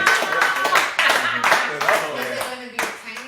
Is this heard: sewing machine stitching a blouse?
no